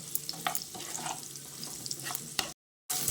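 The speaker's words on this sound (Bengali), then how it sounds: "তারপর গ্যাসের ফ্লেমটাকে হাইতে করে সয়াবিনগুলোকে ভালো করে ভেজে নেব।" Soybean chunks coated with spices and black pepper fry in hot oil over a high gas flame, a close, crackling sizzle broken by stirring scrapes, then a brief silent gap before the sizzle resumes.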